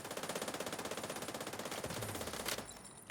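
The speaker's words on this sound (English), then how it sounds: "Didn't know there was actually their SMG. Well, it wasn't their SMG, it was still a like assault rifle." Sustained fully automatic assault rifle fire in a shooter game, a fast steady stream of loud close shots over about two and a half seconds that cuts off near the end.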